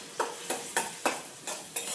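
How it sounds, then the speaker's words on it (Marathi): Vegetables for fried rice fry and get stirred in a hot pan, with a steady sizzle punctuated by rhythmic scraping strokes about every third of a second, close and moderately loud, with no voices. "छान मी एकदा फ्राय करून घेते."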